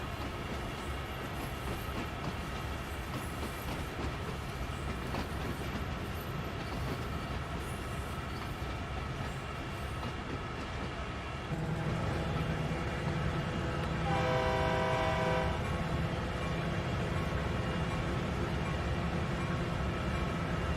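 Train in the Train Sim World 2 video game rumbles steadily as it passes over points, with a continuous rolling drone that grows louder and gains tonal, horn-like hums partway through.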